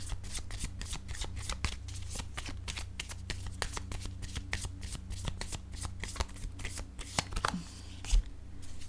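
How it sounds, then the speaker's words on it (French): A deck of cards being shuffled, a steady run of rapid riffling card flicks with sharp snaps, close and continuous over a low steady hum, with no talk. "je vais piger une carte rose"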